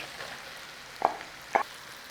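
Mushrooms frying in a pan of bacon fat, butter and olive oil give a low, steady sizzle, broken by two brief scraping stirs about half a second apart.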